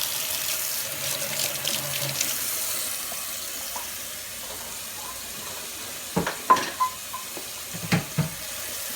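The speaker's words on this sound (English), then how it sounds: "Then we're going to be adding 4 cups of hot water." Hot water pours steadily into a pot for homemade laundry detergent, a soft continuous rush, followed by a few clinks and knocks of cookware near the end.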